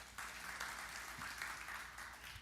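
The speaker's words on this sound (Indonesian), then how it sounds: "Yang mau kita beri tepuk tangan yang meriah bagi Tuhan." A church congregation applauding together, a steady wash of many hands clapping, fairly distant and even in level, with no voices over it.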